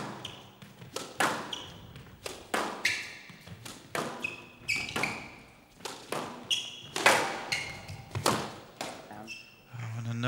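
Squash ball shots in a professional US Open match between Shabana and Gaultier, a rapid series of sharp thuds and squeaks of footwork echoing around the court, with occasional voices.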